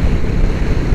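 Loud, steady wind buffeting the microphone during a motorbike ride toward Ladakh, a continuous roaring rush with no break.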